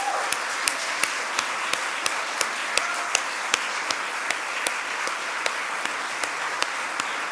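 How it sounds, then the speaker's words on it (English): An audience applauds a performer at a concert of Jewish survival songs: a moderate wash of clapping with distinct individual claps punctuating it steadily throughout. "maybe clap for him."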